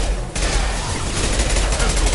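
Gunfire in the video game Mass Effect 2, a loud sustained burst of rapid shots in a dense, unbroken barrage that starts abruptly and keeps going.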